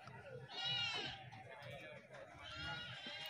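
Goats being sold at a roadside livestock market under trees, two bursts of bleating, one near and fairly loud and a second a little later, with people talking throughout and a general outdoor murmur.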